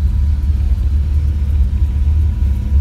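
A scratched-out '63 car with original patina rolls by on the road, its engine a steady, deep low rumble heard up close throughout.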